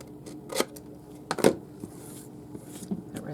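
Scissors cut paper along marked lines for a mini album craft, a few crisp snips and rustling paper handling, close and moderately quiet, no speech.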